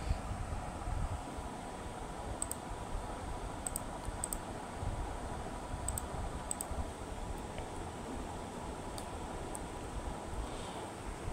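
Keys tapped on a computer keyboard while entering a debit card expiry date and ATM PIN for HDFC net banking, a few sparse clicks spread over steady background hiss, faint and close.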